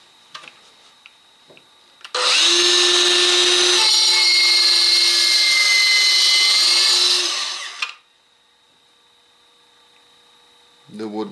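A Makita SH02Z compact 3-3/8 inch circular saw cuts through wood with a loud, steady high-pitched whine lasting about six seconds, starting and stopping abruptly, with faint clicks before and after.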